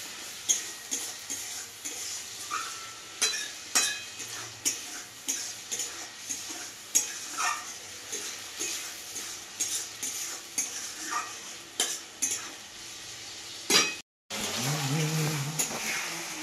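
Repeated scraping strokes of a spoon stirring a thick onion and tomato paste frying in a pan, a soft sizzle beneath, in an even rhythm.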